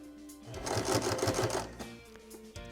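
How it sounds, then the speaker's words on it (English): Sewing machine stitching across the corner of a quilted pot-holder, a short close burst of rapid rhythmic needle thumps that starts and stops within a couple of seconds. "sew right off the edge to make that little finished bit there"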